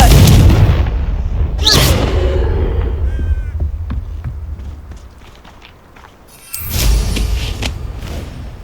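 Hogwarts Legacy's Confringo blasting spell goes off in two sharp, bright bursts, then a heavy, rumbling explosion follows later over a busy game soundscape of steps and impacts.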